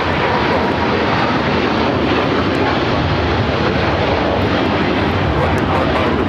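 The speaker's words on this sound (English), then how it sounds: "Cathay Pacific Flight 885 taking off to Hong Kong on the 777-300ER" A Cathay Pacific Boeing 777-300ER takes off at LAX bound for Hong Kong, giving a heavy, sustained jet engine roar, loud and near throughout, with speech over it.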